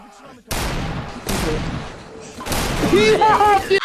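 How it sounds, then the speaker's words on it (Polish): Sharp blasts and booming bursts of game explosions, loud and close, with a voice talking over the top. "Tutaj może wybuchnąć."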